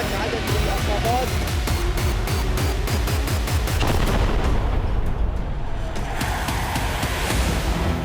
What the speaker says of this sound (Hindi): आसमान से भीषण बमबारी।